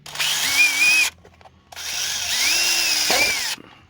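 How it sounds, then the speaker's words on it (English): A power drill whirs loudly in two bursts while drilling pilot holes, pitch rising as it spins up, with a short pause between them. "I'll drill a couple of holes."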